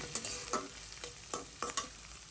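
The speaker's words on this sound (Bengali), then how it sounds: "এইদিকে এখন হচ্ছে পেঁয়াজটা একটু ভেজে নিই" Onion fries quietly in a pan, a soft hiss interrupted by several brisk stirring scrapes, with no talking.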